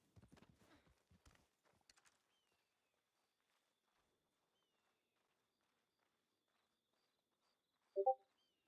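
A horse's hooves clip-clop in a quick uneven burst for about two seconds, then quiet follows until a short louder clatter near the end, with no voices.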